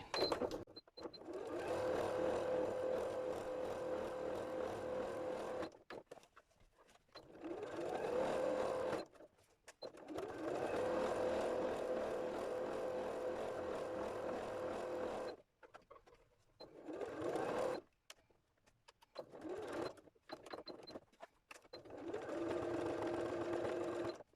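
Sewing machine running a long straight stitch on fabric for a tea cosy for an IKEA teapot, buzzing steadily in several bursts of a few seconds each, separated by short pauses.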